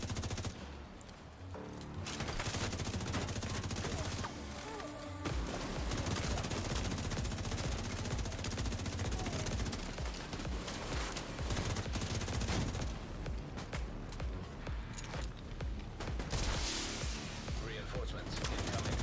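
Sustained automatic gunfire from the shooter game The Division 2 as an enemy is gunned down, dense rapid bursts running almost continuously for the whole stretch at high volume, with a voice talking briefly over the shooting.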